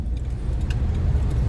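Car with worn, rusty rear brake pads, a low engine rumble with a brief metallic jangling squeal near the middle, close and steady.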